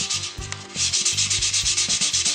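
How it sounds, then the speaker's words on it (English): A poplar wood bowl is hand sanded with 180 grit sandpaper, producing close, rhythmic scratchy rubbing strokes in quick back-and-forth succession. "I'll start with the 180 grit."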